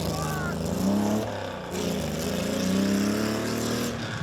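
A newly built rally car, still under development, drives past with a sustained engine note that rises and settles over a few seconds, fairly close and loud, with voices talking alongside it.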